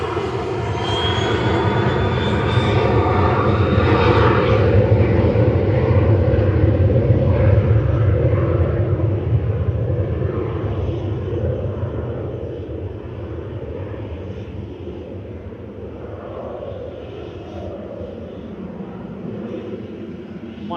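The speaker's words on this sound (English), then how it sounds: "this little Embraer Phenom 300 is heading to Edinburgh" An Embraer Phenom 300 business jet takes off at Manchester Airport, its loud engine roar and rumble swelling near the start, then slowly fading into the distance as the aircraft climbs away.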